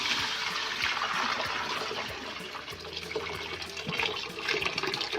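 A prepared mixture is poured into a pot of kadhi, giving a soft, continuous splashing and trickling of liquid that stays fairly quiet throughout.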